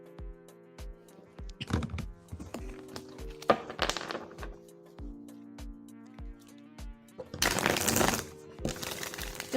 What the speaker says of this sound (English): Shuffling for your in-depth question